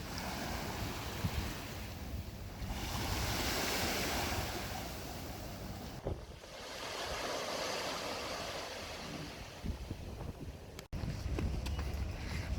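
Ocean waves wash onto a beach in Aruba, a steady broadband rush that swells and recedes in slow surges, with some wind noise on the microphone and no talk.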